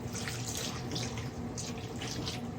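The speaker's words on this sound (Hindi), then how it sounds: "इसमें आधा लीटर में पानी डालूंगी" Half a litre of water poured from a glass into a pot while cooking degi gosht, a steady close splashing gush running continuously without talk.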